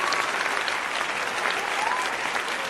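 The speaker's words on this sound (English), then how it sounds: "Let me give you some applause too." An applause sound effect plays on a livestream, a short, steady burst of dense crowd clapping at even loudness from start to finish.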